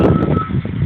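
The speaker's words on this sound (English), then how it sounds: "Hoping that this bus doesn't hit me. He's backing up right now." A bus backs up with a single short reversing beep over the low rumble of its engine, close by.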